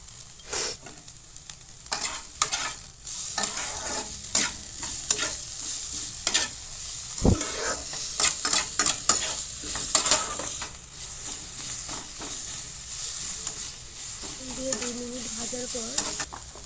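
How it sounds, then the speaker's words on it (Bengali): Vegetables for a paneer roll filling fry unsalted in a pan, a steady close sizzle broken by frequent scraping stirs and clatters, with no talking. "নুন না দিয়েই ভাজতে হবে তো সব কিছু ভালো ভেজে এরপর আমি নুন দিয়ে দেবো"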